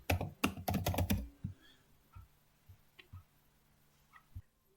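Keys on a computer keyboard are typed rapidly as commands go into a Linux shell, with a dense cluster of clicks up front, then sparse, softer taps trailing off over a quiet background.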